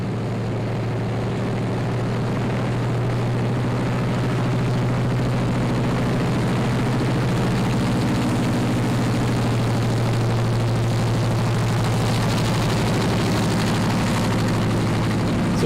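A DC-3 propeller plane taxis to park in FSX at a busy airfield, a loud steady low engine drone with a constant propeller hum that holds throughout.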